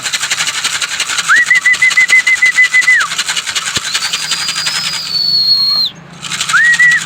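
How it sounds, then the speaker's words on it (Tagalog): Racing pigeons flying in and landing at a loft, with repeated sustained whistle-like tones and rapid fluttering over a steady hum, the pitch briefly gliding upward, no one speaking. "Ayan, bababa na mga kalapatids."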